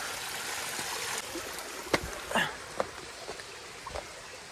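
Water from a small waterfall flows down a stream after the first monsoon rain in Palghar, a steady close rush with a few sharp splashes and knocks.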